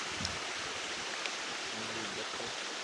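Fairy Falls waterfall in New Zealand gives a steady, even rush of falling water with no breaks, heard from some distance and fairly soft.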